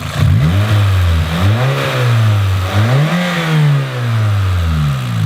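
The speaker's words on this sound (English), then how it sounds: "The cams on these, as they age, they make a little bit of noise, but it's nothing out of the ordinary." An aging car engine with noisy cams runs loud and close, its low hum rising and falling in pitch several times as it is revved gently off idle, with a faint ticking rattle throughout.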